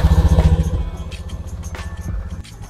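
A fuel-injected Honda Fit motorcycle engine is kick-started and idles to warm up: a close, loud, rapid putter of regular pulses that settles slightly lower and steadier toward the end, with no talk.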